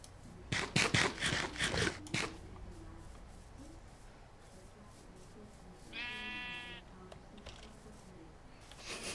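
Rapid keyboard clicking at first, then quiet, followed by a single short bleat from a sheep in a game, moderately near.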